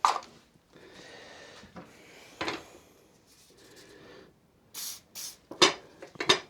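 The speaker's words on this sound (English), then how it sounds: "Spray, give me some spray. I'll spray a bit of something." Short hissing bursts from a spray can in a garage during a car rear end teardown, coming in several brief blasts near the end after quieter knocking and handling noises.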